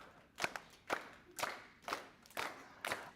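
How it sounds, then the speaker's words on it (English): Hands clap six times at an even, unhurried pace during a toddler group session. Each clap is sharp and fairly quiet, with short gaps between them and no talking. "Let's clap one more time."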